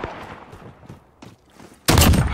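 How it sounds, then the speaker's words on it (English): Sniper rifle fire in the Modern Warfare video game: a single loud, sharp shot bursts in near the end after a stretch of quieter, scattered battle noise. "this is a fucking sniper rifle"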